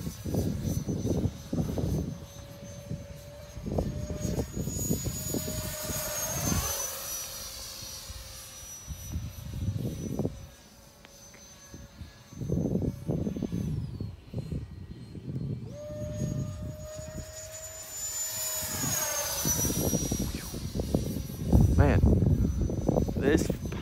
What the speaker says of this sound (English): This powerful EDF I installed in this thing and the 40 amp ESC is incredible.